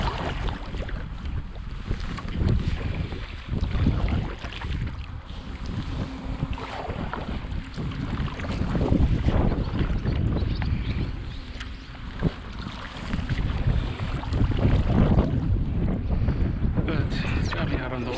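A small boat moves across a lake in wind. Hull and water noise mix with gusty microphone buffeting, loud and close, with no clear speech.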